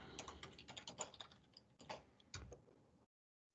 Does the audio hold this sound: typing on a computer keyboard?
yes